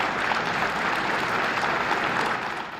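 Steady, warm applause from a crowd of townspeople greeting a newly introduced preacher at a church in Juneau, Alaska, a dense even clapping that holds for a few seconds and then tapers slightly, with no voices over it.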